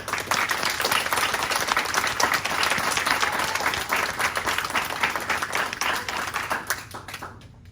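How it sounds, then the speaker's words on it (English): A crowd at a kung fu gathering applauds everyone present, dense rapid clapping that swells early, holds steady, then thins and stops near the end. "Let's have a round of applause for everybody."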